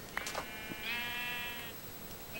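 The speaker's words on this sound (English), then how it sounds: "I'm going to kill the sheep right here" A Minecraft sheep gives one drawn-out bleat, wavering and fairly close, preceded by a few soft clicks and taps under a steady game background hum.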